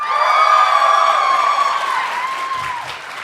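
A panel audience at RTX 2017 cheers, with one long, loud, high whoop sustained over a bed of clapping and crowd noise. The whoop bends down and fades away near the end.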